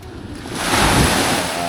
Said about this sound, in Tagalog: Alon.